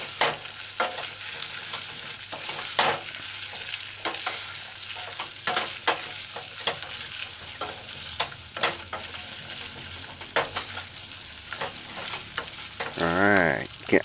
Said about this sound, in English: add the chopped onions. And then stir